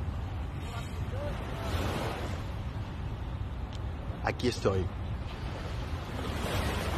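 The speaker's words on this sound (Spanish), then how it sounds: "Escuchen, el mar." Sea waves wash in a continuous low surge near the shore, with a gust of wind; someone speaks briefly over it.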